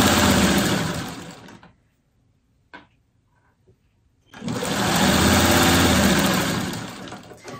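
Sewing machine stitching a quarter-inch seam through quilting scraps, a loud close steady mechanical whir that runs, stops for a quiet gap with a couple of small clicks, then starts again and runs steadily.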